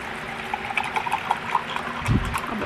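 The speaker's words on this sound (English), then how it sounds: "so pour some in here." Liquid pours into a cup in a steady close trickle with small splashes, ending in a louder gurgling burst near the end.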